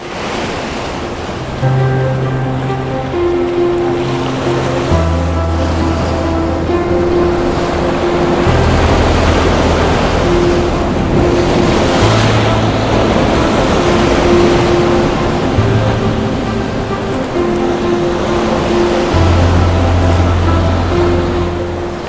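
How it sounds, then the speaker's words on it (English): Ocean waves crashing onto a shore at sunrise, a loud, continuous roar of surf with heavy pounding breakers and some wind buffeting the microphone, no voices. "And a sudden pounding load of waves come down here."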